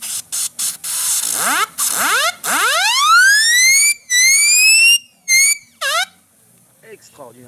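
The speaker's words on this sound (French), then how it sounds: "Et nous avons la sirène." A steam siren on a Foster steam traction engine wails in bursts, each blast sweeping upward in pitch with a hissing rush of steam, then a few quicker falling toots before it stops.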